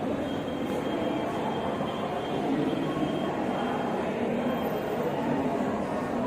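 A train rumbles steadily at a railway station below a budget lodge in Secunderabad, a continuous broad roar with a faint high whine, heard from nearby without speech.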